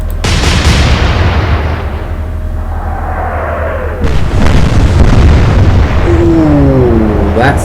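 Loud German warship guns from the naval game Atlantic Fleet fire a thunderous salvo, then a second heavy boom follows midway, each trailing into a long rumbling decay with faint whistling tones.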